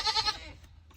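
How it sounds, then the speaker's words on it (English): A goat doe that has just kidded and is nursing lets out one short, close bleat that fades quickly into quiet. "And this is actually Melanie's goat"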